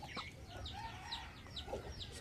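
A rooster clucks and calls in a series of short, moderately close bursts over a low background hum.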